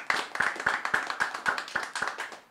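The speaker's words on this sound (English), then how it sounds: "Give the sponsors, please, a round of applause." Sponsors at a festival launch press conference get a round of applause: about ten crisp, evenly spaced claps close by, with few hands audible.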